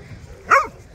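A single short bark or yip from a Bloodhound puppy playing at a backyard pond, close and fairly loud over quiet background.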